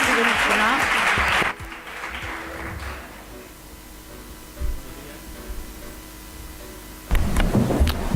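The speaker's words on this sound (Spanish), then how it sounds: "¿Por qué me aplauden a mí?" Audience applause in a hall at a national immigration-law congress: a loud burst of clapping for the first second and a half, a quieter stretch with faint room noise, then clapping swells again near the end.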